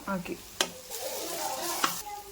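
Chillies hit a hot oiled pan, with a soft sizzle under sharp clinks and scraping stirs of a utensil against the pan, close and fairly quiet, and a voice speaks in the background.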